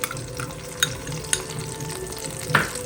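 Cumin, green chillies and curry leaves sizzle in hot ghee over a slow flame, a steady close frying hiss broken by a few sharp clinks of a stirring spoon against the pan.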